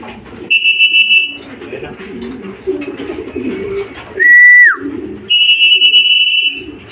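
Racing pigeons returning to a club loft during a training flight, with bird calls and coos alongside steady high electronic beeps like an arrival timer; someone talks between them.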